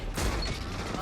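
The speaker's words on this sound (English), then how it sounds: "Reloading." Weapon reload in a video game, a short burst of mechanical clicking and metallic clatter over a dense, loud background, lasting about a second.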